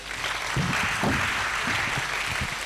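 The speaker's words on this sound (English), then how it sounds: "Please, another round of applause for my Vice Chancellor" Audience applause at an academic lecture on food and nutritional security, a short burst of steady clapping, moderately loud, filling the room.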